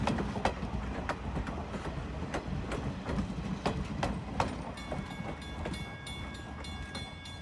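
Strasburg Railroad passenger cars, including a dining car and first-class cars, roll past with regular clickety-clack beats over a steady rumble, and a faint sustained tone enters near the end.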